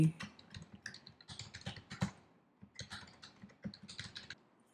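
Computer keyboard typed in irregular quick bursts of soft clicking keystrokes, close and fairly quiet, with short pauses between runs and no talking.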